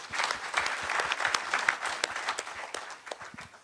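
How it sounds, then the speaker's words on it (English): Audience applause at a town hall on governance legacy in Namibia, a dense, steady round of clapping from a crowd that sustains throughout without fading. "A round of applause for that, please"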